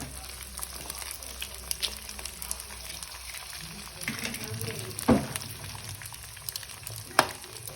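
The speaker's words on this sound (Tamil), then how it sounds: "அதால முட்டையை திரும்பி போட்டு அழகா கொத்த போறேன்னு பார்த்துக்கொண்டுருங்க." An egg frying in a pan sizzles steadily up close while being scrambled, with a few sharper scraping and stirring clicks over the continuous crackle.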